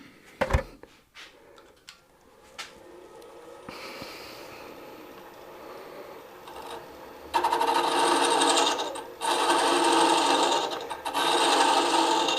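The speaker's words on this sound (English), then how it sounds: "So let's try a little bit of hollowing now." Mini hollowing tool cutting into a small spinning wooden ornament on a lathe, starting with a few sharp knocks, then a steady rasping scrape that grows louder and harsher in long continuous passes, close up with no talk.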